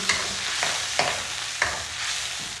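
Soy sauce hitting a hot pan with garlic already frying, a steady close sizzle broken by a few sharp scrapes and stirs at roughly half-second intervals.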